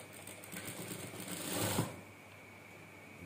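A sewing machine runs in a soft, steady hum while stitching an A-line gamis skirt with an elastic waist. It swells briefly before easing off, quiet and close, with no voices.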